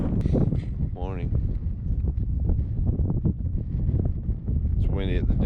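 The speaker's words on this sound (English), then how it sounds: "It's windy at the dunes." Wind gusting across open sand dunes, a steady low roar buffeting the microphone throughout, with people talking and shouting over it.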